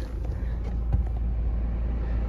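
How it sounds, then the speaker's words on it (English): A 2019 Toyota Land Cruiser Prado GXL, started by push button, idles with a low, even engine rumble heard from inside the cabin, quiet and unbroken throughout. "push button start, starts the car up"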